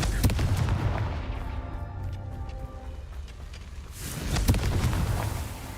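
A Confringo blast spell in Hogwarts Legacy, booming game explosions with sharp cracks near the start and again near the end, over a low rumbling game backdrop.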